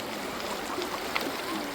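Water from a mountain stream near a waterfall rushes steadily in a soft continuous hiss, with small gurgles and splashes breaking through now and then.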